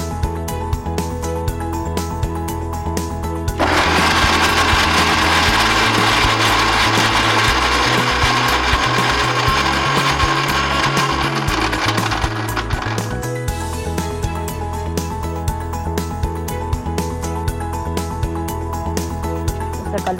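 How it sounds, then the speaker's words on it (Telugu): A kitchen mixer grinder blending mint and green chillies for coconut vadas whirs loudly for about nine seconds, then switches off, with quieter handling noises before and after. "మిక్సీ వేసుకోవాలి."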